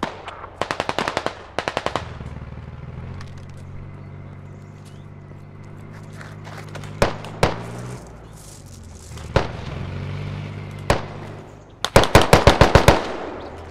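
M4 rifle fire in the military shooter Squad: short bursts and single shots crack nearby, some quick rapid strings at the start and end, over an idling engine-like rumble.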